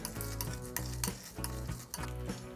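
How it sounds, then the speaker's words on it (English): A spoon works chicken risotto with parmesan, butter and spinach around a pressure cooker pot, giving repeated scraping strokes over a steady sizzle, close and continuous with no talking. "And we'll just stir all this through."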